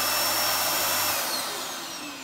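A Hoover Performer bagged cylinder vacuum cleaner motor starts up close by, a broad whooshing whine that swells quickly and then eases slightly as it settles.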